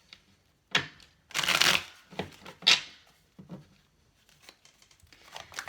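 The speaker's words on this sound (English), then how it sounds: "I need one more shuffle, I think." A deck of tarot cards is shuffled by hand in a few crisp, riffling bursts close by, the loudest in the middle, separated by quieter handling sounds and pauses.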